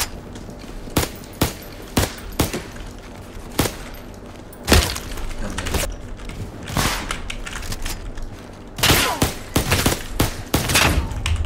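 Suppressed gunfire in the Roblox game Criminality, with sharp shots in scattered single bursts and quick clusters over mechanical clicks and a background hum, a rapid run of shots near the end.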